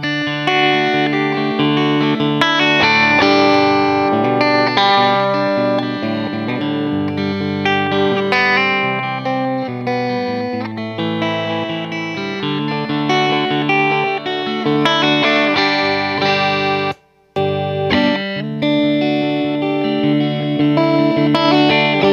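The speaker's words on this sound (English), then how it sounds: "so we should be able to hear just the sound of the guitar" An Eastwood Airline H78 electric guitar through an overdriven tube amp plays continuous chords and notes, thick and saturated, with a brief dropout near the end.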